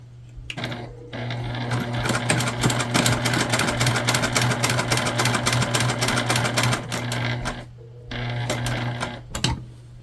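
A sewing machine stitches a fabric shoulder bag in a long, rapid, steady run of needle clatter with a constant motor hum, pausing briefly near the end before a short final burst.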